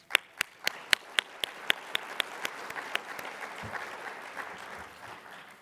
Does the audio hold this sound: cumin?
no